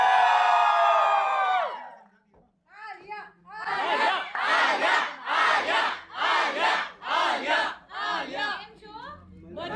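A large crowd at a public celebrity appearance in Ahmedabad shouts and cheers in repeated loud surges, following a high shriek at the start, with a voice on a microphone urging them on.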